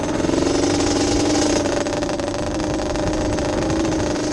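A small four-wheeler ATV on its stock motor runs steadily, close and loud, with a constant buzzing engine drone that barely changes in pitch.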